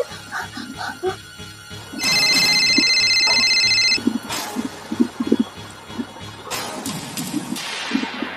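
A phone rings with an incoming call at a police station, a steady electronic ring for about two seconds in the middle. It falls between bursts of talk and background commotion.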